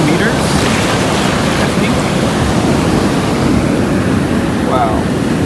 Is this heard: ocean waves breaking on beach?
yes